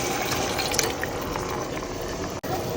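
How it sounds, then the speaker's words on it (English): Water pours into a pot of chicken fricassee with fresh tomatoes, bell pepper, garlic and ginger, a steady close splashing rush that runs without pause and stops abruptly near the end. "add in some water,"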